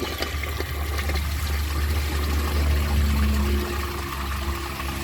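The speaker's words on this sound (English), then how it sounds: "Let's give it a flush." A 1981 Eljer Emblem toilet flushes in a steady, loud rush of water that runs without a break through the whole stretch, with low gurgling underneath.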